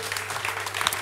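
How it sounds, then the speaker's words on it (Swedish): An audience at a Science Slam event applauds the researchers, dense, steady clapping filling the room with no pauses. "Och då får vi chans att ge dem en kollektiv applåd."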